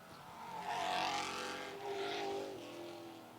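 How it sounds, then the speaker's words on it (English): Street stock cars race on the Mt. Lawn Speedway oval, their loud engines roaring and droning as they sweep past in two overlapping waves, with no speech. "Johnny McGee wheels it down the backstretch and through the short turn as he starts to gain in on lap traffic"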